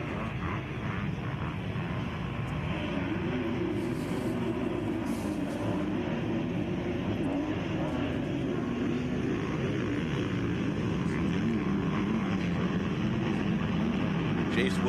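A pack of Kawasaki and KTM motocross bikes at a desert racetrack drone as a continuous engine rumble, steady and moderately distant, under a race announcer's talk.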